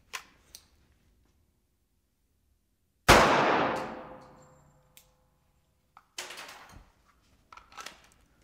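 A single .45 pistol shot with 230-grain ball ammunition fired into civilian body armor: one sharp, loud crack with a long decaying tail, followed by a few faint clicks and handling clatter.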